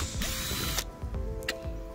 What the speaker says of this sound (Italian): Stessa cosa con delle viti nel legno, via, svitate in maniera perfetta.